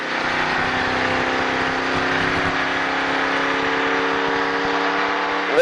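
A race car engine drones loud and close in the cockpit at Charlotte Motor Speedway, holding a steady high-pitched roar as the throttle is picked up, with a small surge at the very end.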